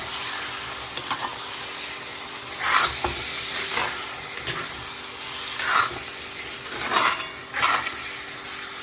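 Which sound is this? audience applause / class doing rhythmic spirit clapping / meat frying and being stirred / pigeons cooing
meat frying and being stirred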